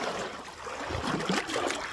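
A strong current of stream water rushes and gurgles steadily around a wader standing knee-deep on a rainy day, a dense continuous wash with a few deeper sloshes close by.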